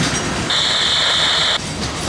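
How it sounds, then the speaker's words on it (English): A CSX mixed freight train rolls past up close, a loud steady rumble of rail cars with a sustained high wheel squeal in the middle. "that other train's headed down the left side"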